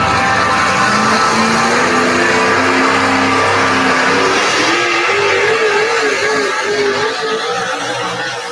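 An NHRA drag racing engine at a 2023 event with the Code3 Pull Team and fire department, a loud, close, sustained roar with rising revs that keeps going for the whole stretch.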